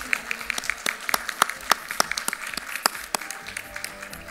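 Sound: audience applause for panelists

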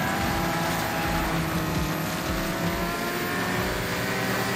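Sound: car engine during drifting

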